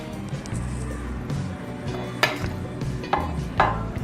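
A spoon stirs aloo chana chaat in a bowl, scraping softly with a few sharp clinks against the dish, fairly close, over faint background noise.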